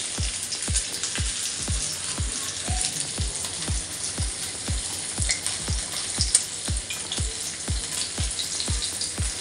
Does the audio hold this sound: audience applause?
no